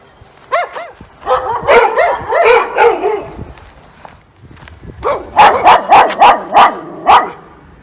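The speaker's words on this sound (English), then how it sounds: "before I get all the neighbors' dogs barking" Several neighborhood dogs bark repeatedly at moderate distance, in two lively bursts of overlapping barks and yips with a short lull between them.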